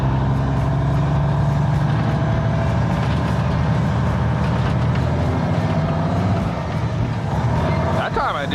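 A 1985 Freightliner cabover truck drives with a loud, steady diesel engine drone, revving up through gears with audible shift changes, and a brief dip in power near the end.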